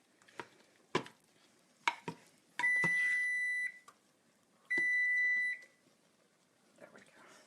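Two long electronic timer beeps signal that bread rolls are done, sounding over knife chopping on a board in a kitchen while cooking a clam spaghetti dinner.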